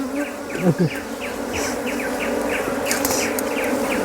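Wild bees swarm around a honeycomb in the Araku forest, their buzzing dense and steady, with single insects zipping past up close against the constant drone.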